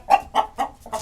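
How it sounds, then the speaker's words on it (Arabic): A Hijazi rooster being fed gives four short, close clucks in an even rhythm, each a quick throaty note with a brief gap between them. "ودي الديك اللي هينزل له الاكل دلوقتي"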